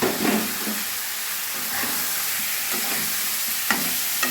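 Chicken chaap frying in a mix of white oil and ghee, a steady loud sizzle with soft stirring scrapes throughout.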